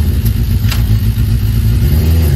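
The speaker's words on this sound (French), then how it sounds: "C'est une Yamaha, ça. R1." A Yamaha R1 motorcycle engine runs loud and close, a deep steady rumble with slight revving, alone without talk.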